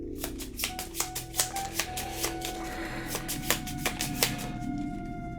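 Playing cards for the Arkham Horror card game are shuffled close up in a rapid series of crisp riffles and flicks, about a dozen sharp snaps over a quiet room background, with no talking.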